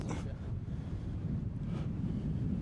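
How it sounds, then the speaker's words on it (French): Steady low wind roar buffets the microphone at Praz-de-Lys Sommand, a continuous rushing noise with no voices. "Et vous entendez le vent"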